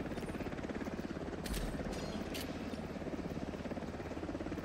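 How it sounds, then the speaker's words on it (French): Steady helicopter rotor thump and engine drone from the shooter game Delta Force, loud and continuous, with a few brief sharp clicks layered over it and no talk. "Ah, sympa le bruit d'hélico, les gars."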